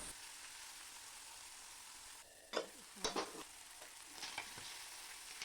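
About 200 shrimp frying in a pan alongside already-fried meat for mixed fried rice. A soft, quiet sizzle is broken by a few sharp scraping stirs of a spatula against the pan.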